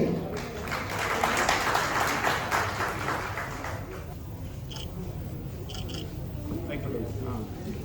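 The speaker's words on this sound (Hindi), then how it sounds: "देवों को जब सम्मान होता है तो तालियां भरपूर मिलनी चाहिए।" Guests are honoured at an astrology conference at the Constitution Club of India in Delhi, and a hall audience claps loudly and densely, the applause swelling and then tapering off as a voice speaks over the room.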